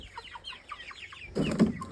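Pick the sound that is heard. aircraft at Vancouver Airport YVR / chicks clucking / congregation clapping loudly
chicks clucking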